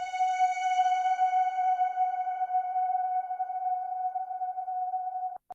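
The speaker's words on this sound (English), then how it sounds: "So you'll get a long reverb note that I can then chop up and manipulate." A frozen sample stretched into one long sustained reverb note, a steady pure tone with faint upper harmonics that holds evenly for over five seconds before cutting off abruptly.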